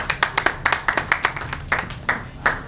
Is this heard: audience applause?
yes